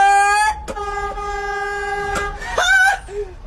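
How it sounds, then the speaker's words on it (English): A train horn sounds loudly and close, sustained tonal blasts with a brief break and a rising final toot. "That's a train."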